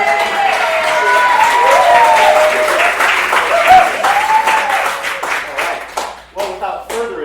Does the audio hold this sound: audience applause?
yes